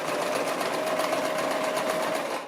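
A Brother LX-3125 sewing machine stitching an apron at a slow, steady pace under foot-pedal control, giving a continuous close mechanical whir with rapid needle pulses and no talking.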